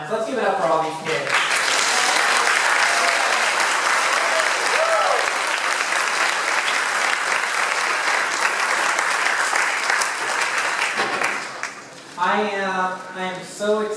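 An audience at a high school senior scholarship ceremony breaks into loud, steady applause that holds for over ten seconds, with speech heard briefly at the start and a voice resuming over the fading clapping at the end.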